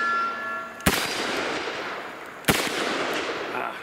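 A Colt Anaconda .44 Magnum revolver fires two sharp, loud gunshots about a second and a half apart, each a hard crack followed by a brief ringing decay over outdoor background noise.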